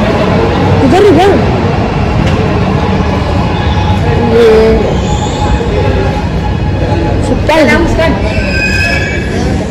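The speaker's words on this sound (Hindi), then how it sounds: "तो आ गई हमारी ट्रेन, इधर पे खड़े रहो ना," An underground metro train arrives at the station, rumbling in with brief squeals of wheels or brakes near the start and end. People talk over the train noise close by.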